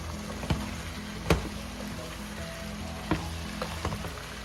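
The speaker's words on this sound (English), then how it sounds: "In Tagalog, they call this sangkutya, which pretty much drying it up from sauteing" Pork sautéing in a pan over high heat while its liquid cooks down, a steady close sizzle with a few sharp spatula clicks and scrapes scattered through it, no talking.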